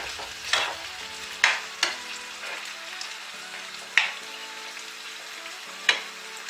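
Shrimp with pineapple cooks in a pan with a soft, steady sizzle, broken by five sharp scraping stirs of a utensil against the pan at irregular intervals, close by with no talk.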